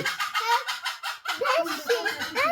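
Domestic hens clucking and squawking nearby in a steady chatter of calls, loud and close with no talk over them.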